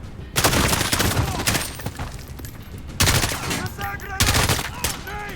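Machine gun fire in Modern Warfare 2019 comes in several loud, close bursts separated by brief lulls, with faint voices shouting in between.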